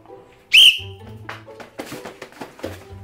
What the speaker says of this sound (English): When I blow the whistle, where are you going?